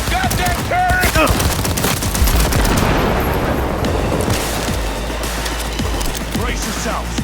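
Turret machine gun fire in the video game Cyberpunk 2077 roars in dense, rapid bursts through a chaotic firefight, close and loud, mixed with booms and crackling impacts, with shouted in-game voices over the top.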